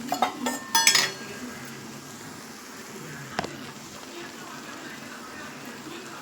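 Chopped mango is tipped into a hot pan of chillies, heat switched off, while making mango pickle: a quick clatter and clink of pan and utensil near the start, then a quiet background.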